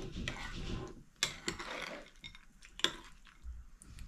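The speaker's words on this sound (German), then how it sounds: "So, das mische ich einmal durch." A spoon stirs porridge with thawing frozen wild blueberries and peanuts in a bowl, giving a few faint, close scrapes and sharp clinks against the dish, spaced irregularly in a quiet kitchen.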